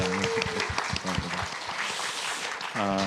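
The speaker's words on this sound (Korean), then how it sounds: "우리 찬양팀을 위해서 다시 한번 박수 하도록 하겠습니다" Church congregation applauding its worship team during an afternoon service: a steady wash of clapping with a voice talking over the start and again at the end.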